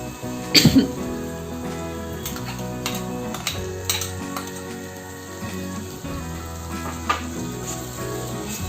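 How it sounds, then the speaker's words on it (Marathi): Tomato puree hits hot oil and fried spices in a pan and sizzles steadily, with a sharp burst of crackle at the start and soft stirring clatter throughout. "आता आपण याच्यामध्ये टोमॅटोची प्युरी घालू"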